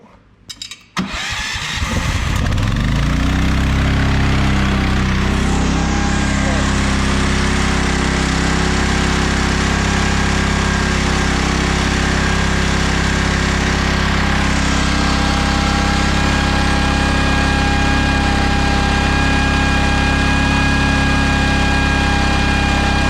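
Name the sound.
small gasoline engine running, Briggs or Honda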